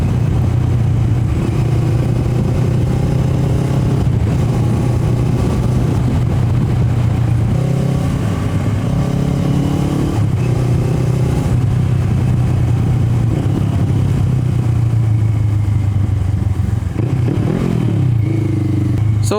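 Kawasaki Z650 motorcycle exhaust while riding: a loud, steady engine drone that holds throughout, with small swells as the revs rise and fall, and no talking over it.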